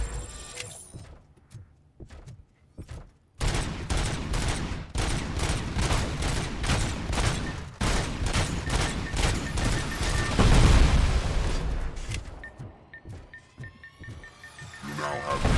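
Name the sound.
enemy firing rockets in the video game RoboCop: Rogue City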